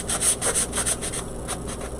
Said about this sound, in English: Just sanding off a little paint that got in there.